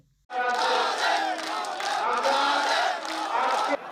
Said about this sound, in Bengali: উপস্থিত নেতাকর্মীরা তাৎক্ষণিক করতালি ও স্লোগানে বরণ করে নেন প্রিয় নেতাকে।